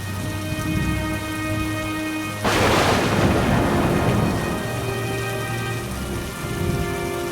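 Heavy rain pours steadily while a single loud thunderclap crashes in partway through and rumbles away under the downpour, with a soft musical tone running beneath.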